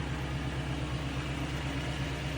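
A Toyota truck raised on a lift running in four-wheel drive high, a steady even mechanical hum and drone of engine and spinning driveline, constant and close, no talk.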